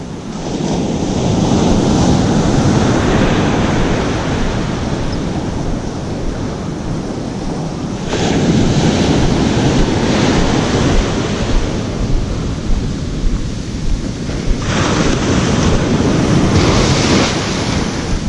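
Ocean surf rolling and breaking on a sunny beach where someone is surf fishing, a steady loud wash of waves with gusty wind buffeting the microphone throughout, no voices.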